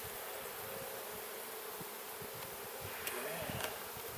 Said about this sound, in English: there I got some baby bees going on there